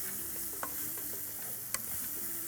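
Spinach and two green chillies being mixed in a pan on a Tamil cookery show, with a steady low sizzle under occasional soft scrapes and one sharp clink of the spoon, no voices.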